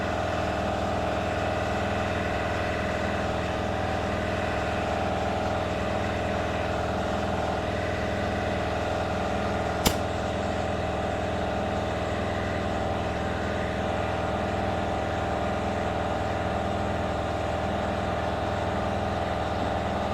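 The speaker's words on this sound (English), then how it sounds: "I was going to say the air compressor might get loud." An air compressor inflates a tractor tire, running as a steady, loud mechanical drone with a constant hum throughout and one sharp click partway through.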